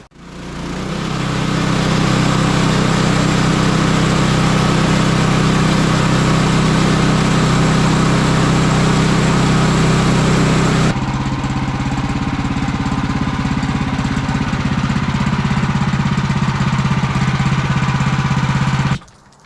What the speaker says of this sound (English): So I'm gonna take a little skim cut now, just to see if I take anything off.